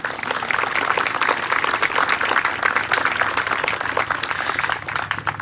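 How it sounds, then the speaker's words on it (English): Sustained audience applause at an outdoor memorial plaza unveiling ceremony for the Saugus High School community, steady dense clapping throughout without speech, easing slightly near the end. "Let's give them an applause"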